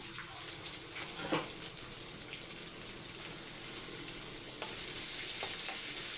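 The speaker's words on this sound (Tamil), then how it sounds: "இது ஒரு பக்கம் ஒரு சிம்மில் வச்சு வதக்கிக்கலாம்" Onion and curry leaves sautéing on a low flame in a pan, a quiet steady sizzle with a few scattered stirring taps and scrapes, continuous and alone without speech.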